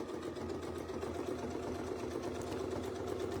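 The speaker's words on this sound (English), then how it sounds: "And we'll sew that one around." A sewing machine stitching a quilt block with Westalee ruler tools runs in a steady, close, continuous mechanical hum with rapid needle rattle, no talking.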